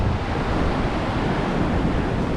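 Strong gusting wind roars steadily outdoors, a loud continuous broadband rush with no distinct rustle of leaves standing out, filling the whole stretch without pause.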